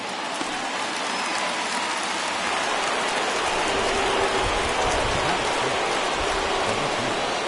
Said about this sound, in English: This has got to be the hardest rain we've seen all afternoon.